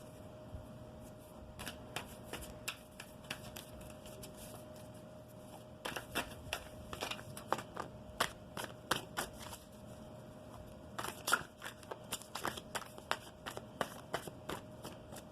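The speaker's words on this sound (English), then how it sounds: "I'm going to start off by cutting the deck for you." Tarot cards shuffled and cut by hand, bursts of quick riffling clicks and soft slaps coming in irregular clusters, close and fairly quiet with no talking.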